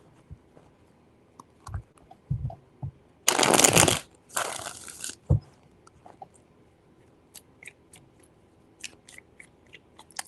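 Two loud riffling bursts of a tarot deck being shuffled, preceded and followed by soft taps and handling clicks, close and otherwise quiet.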